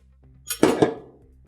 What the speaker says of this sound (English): And I'm just going to start mixing it up, getting it all incorporated, breaking up all the yolks.